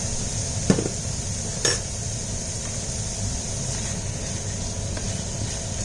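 Bamboo shoots are stir-fried with seasoning powder in a pan. A low continuous sizzle runs throughout, broken by a couple of sharp metal clanks of the utensil against the pan early on.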